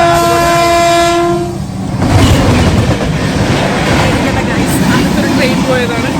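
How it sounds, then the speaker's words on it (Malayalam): A loud train horn blares for about a second, then a passing train rolls by close at hand with a steady, heavy rumble and rattle of wagons. "ട്രെയിൻ പോയതാണ്."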